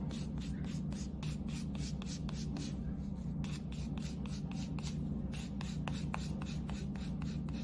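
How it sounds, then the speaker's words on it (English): A nail buffer rubs quickly back and forth across fingernails during a state-board manicure, a close, soft rhythmic scratching of many fast strokes over a steady low background hum. "now I will buff away any surface scratches"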